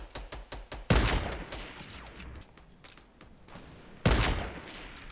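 Gunfire in Fortnite Battle Royale: a rapid string of sharp shots opens, then two loud, heavy blasts follow about three seconds apart, each trailing off into quieter clatter, with no voices.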